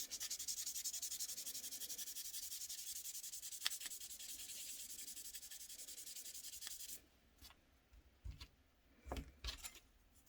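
Fine 3000-grit sandpaper rubbed steadily over a plastic scale model car body, an ICM Admiral Cabriolet, giving a continuous close hiss for about seven seconds, then a few brief scrapes and soft knocks.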